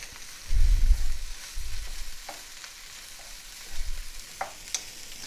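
Fresh ginger being stirred into spices in a hot pan, a soft steady sizzle with a few low scraping thumps of the spoon and light clicks, close and without talking.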